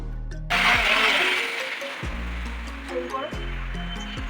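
An electric blender grinds spices into a paste: a loud, close whirring motor that kicks in abruptly and runs steadily, its pitch shifting repeatedly as the mixture churns.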